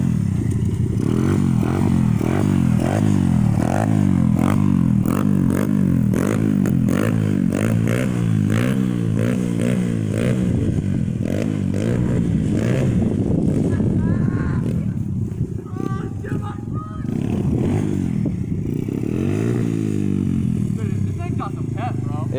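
A 125cc pit bike engine runs loud and close throughout, its pitch rising and falling with repeated revs, while people talk over it.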